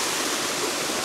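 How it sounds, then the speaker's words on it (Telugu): Water from the Daramalli waterfall rushes in a dense, steady broadband hiss, constant and fairly close, without any voices. "సో ఇది వాటర్ఫాల్ కదా"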